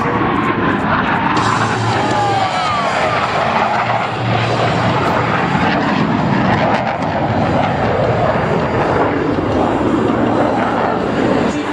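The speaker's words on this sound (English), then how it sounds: "The opposing knife edge pass." Blue Angels jet aircraft making an opposing knife edge pass at a practice air show, a loud continuous roaring rush of engine noise sustained throughout with a sweeping tonal whine.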